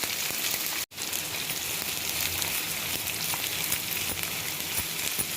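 Onions sizzle and fry steadily in hot oil with mustard seeds and urad dal, a dense, even crackling hiss close by, broken only by a brief dropout near the start.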